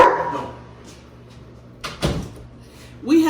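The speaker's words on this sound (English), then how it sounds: "We have 2 large dogs" Large dogs bark a few times inside a house, short sharp bursts midway and at the end, with a door bump and people talking in the room.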